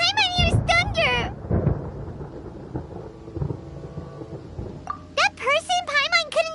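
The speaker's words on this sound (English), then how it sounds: "Paimon hears thunder!" Thunder rumbles and cracks during a stormy Genshin Impact scene, low booming rolls between bursts of a high, chirpy cartoonish character voice speaking at the start and end.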